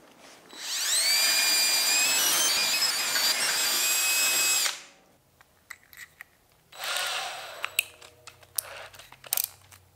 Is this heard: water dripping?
no